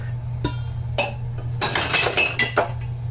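Key lime cake batter being mixed in a bowl, with a series of sharp metallic clinks and taps of a utensil against the bowl over a low, steady hum, close and fairly clear.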